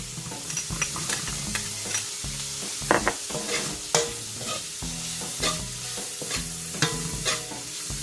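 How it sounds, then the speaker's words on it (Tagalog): Garlic frying in a pan for fried rice with chicken breast, a continuous close sizzle broken by frequent scraping and clanking stir strokes of a utensil against the pan, with no talking. "Then we can add the garlic."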